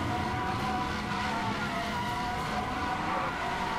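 Tires skidding in a burnout in the racing game Need for Speed: Hot Pursuit, a continuous loud screech and engine roar held steady for nearly four seconds.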